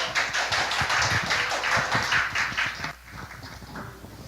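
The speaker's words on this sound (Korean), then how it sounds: "박수!" Applause at a church youth service: a room of people claps in a brisk, fairly loud patter that stops abruptly, leaving a quieter murmur.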